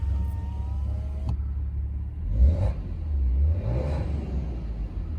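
A 2017 Maserati Ghibli SQ4 engine in non-sport mode idles with a low rumble, then swells in two short revs. The sound is fairly loud and close, with no talking.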